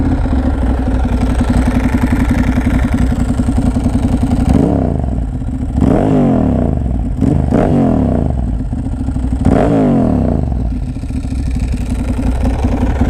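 A 2009 Ducati Monster 1100 fitted with a Leo Vince exhaust rumbles loudly on a ride, its engine note pulsing steadily with several sharp revving sweeps as it accelerates through the gears, close and continuous throughout.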